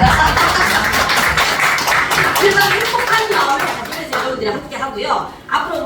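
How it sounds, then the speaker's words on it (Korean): Applause from an audience at a Korean knowledge forum, brisk dense clapping that thins out toward the end as a voice starts talking. "박수"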